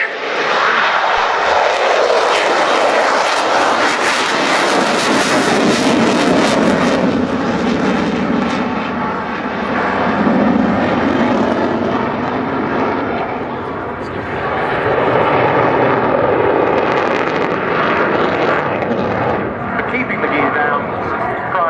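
A Czech Air Force JAS 39C Gripen delta-wing fighter roars past on a low approach at an air display, its loud continuous jet noise sweeping and rumbling throughout.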